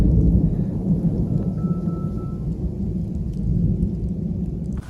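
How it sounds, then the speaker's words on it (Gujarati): Heavy rain pours steadily with a deep continuous rumble of thunder underneath, loud and close throughout. "આટલો વરસાદ ગાજે ને એટલે બીક લાગે"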